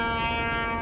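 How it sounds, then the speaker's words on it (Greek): A ship horn sounding in European Ship Simulator, a loud, steady, sustained tonal blast held through the whole short moment without a break. "Όπα, έχουμε και εμείς κόρνα"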